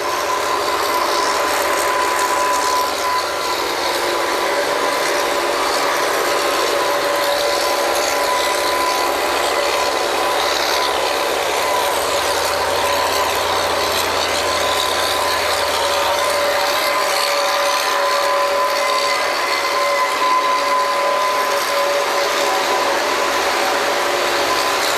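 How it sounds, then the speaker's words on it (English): Pumps on a drilling rig at Brazelton Well #2A run loud and continuous, a dense mechanical clatter and grind with a steady tonal whine, unbroken for the whole stretch and with no talking. "Pumps."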